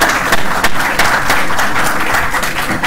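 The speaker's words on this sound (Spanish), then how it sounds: "Vamos, un aplauso para" A conference audience claps after a talk on glaucoma at a medical meeting, a short burst of steady, moderately loud applause from a room of listeners.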